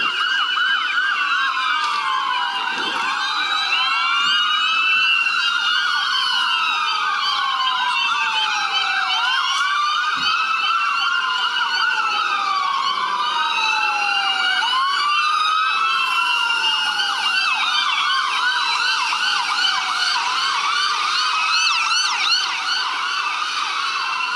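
A police car and an ambulance sound their sirens together, with overlapping wailing sweeps that rise and fall continuously, loud and close, and no talk.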